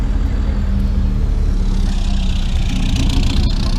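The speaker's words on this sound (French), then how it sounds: "On voit des voitures rares comme cette vieille AMC Pacer." Old AMC Pacer car engine idling and rumbling at a drag strip, a loud, steady low engine drone mixed with crowd and track noise.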